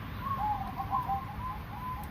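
Zebra dove, or perkutut, cooing in a soft, rhythmic series of low notes that runs steadily over a noisy background, moderately near and without any talk.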